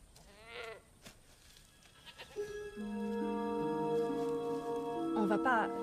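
A goat bleats with a wavering, shaky cry near the start, then dramatic orchestral music swells in and carries on loudly to the end.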